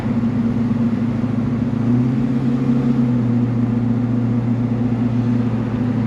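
Holden HQ Premier car engine running steadily while driving, a close, loud, continuous low hum and rumble with a slight drop in pitch midway, no talking.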